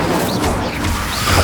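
The fire spell Incendio being cast in the video game Hogwarts Legacy: a short, loud flaring whoosh with rumbling low bursts amid continuous game noise.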